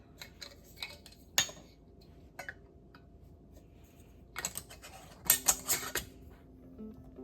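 Small metal canning lids clink onto the rims of glass jars filled with picante salsa, a few light taps and a short cluster of clatters, close and quiet.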